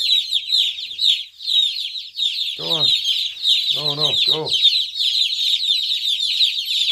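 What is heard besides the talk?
chickens clucking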